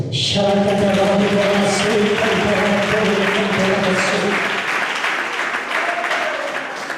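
Church congregation applauding during an evangelical service, a steady loud wash of clapping throughout with sustained organ or keyboard chords underneath and a brief voice near the start.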